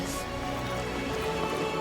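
Steady rain falling in a Nightreign video game trailer, a dense continuous hiss of drops on surfaces heard on its own.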